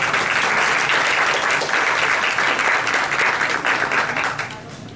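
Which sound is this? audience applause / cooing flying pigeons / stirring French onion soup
audience applause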